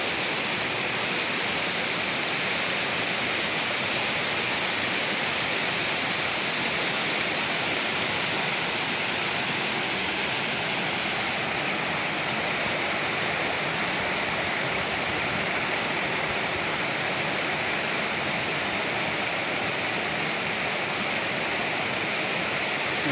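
Water flowing down from Mount Isarog in Camarines Sur, Philippines, makes a steady broadband rush like a stream or small waterfall, unbroken and fairly loud throughout with no voices.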